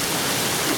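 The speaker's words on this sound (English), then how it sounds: "I'm expecting that this thing will pretty much fill up with water with this kind of rain that we're having now." Heavy rain pours down steadily over a garden planted with sweet potatoes, a dense, even hiss of falling water that fills the short moment with no voices.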